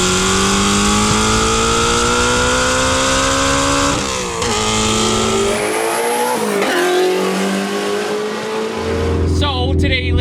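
A twin-turbo Shelby GT350 making 1300 horsepower roars hard under acceleration, its engine note climbing steadily through long pulls with brief shifts, loud and close throughout, ending with turbo whooshes and a settling idle.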